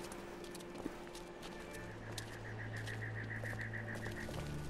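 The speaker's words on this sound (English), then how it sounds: "Horse." Horse hoofbeats in The Walking Dead video game, a rhythmic clip-clop moving at a steady pace against a low ambient hum and faint bird calls.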